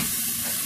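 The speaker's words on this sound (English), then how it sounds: "Give that a stir" Flour stirred into a sizzling pan while making mushroom gravy for Salisbury steak, a brief, steady, close hiss of frying with no distinct stirring strokes.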